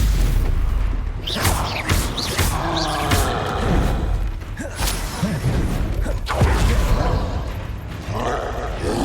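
Confringo blast spells cast in the Hogwarts Legacy video game land as repeated booming impacts with whooshes and crackling bursts, loud and close amid ongoing combat effects.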